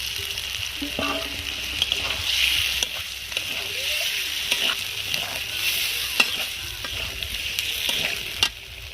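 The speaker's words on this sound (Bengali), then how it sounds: "এবার আমি ভেজে রাখা ডিমগুলো এর মধ্যে দিয়ে দিলাম" Fried eggs sizzle and crackle in hot masala in a pan for egg korma as they are stirred, with occasional scraping and light clinks.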